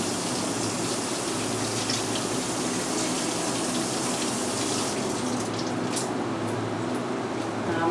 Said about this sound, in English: So I'm just going to take my bunch of asparagus, rinse it off over here.